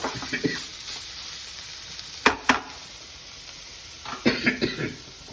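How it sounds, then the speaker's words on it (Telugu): Ridge gourd dal curry mashed and stirred in a pan, giving soft scraping strokes over a faint sizzle, with a cluster of quick stirring scrapes near the end and no talking. "ఇలా దంచి బాగా ఇలా కలుపుకోవాలి అడుక్కి పైకి"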